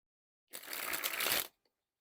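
A deck of Starry Night Puzzle playing cards is sprung from hand to hand in a single crisp burst of fluttering card riffles lasting about a second, followed by a tiny tap, close up and without talking.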